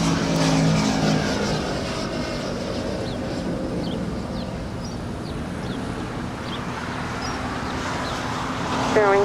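Boeing 777-200ER airliner at LAX holding short before takeoff, a steady broad jet-engine roar with a distant tonal whine that stays even throughout, swelling briefly at the very end.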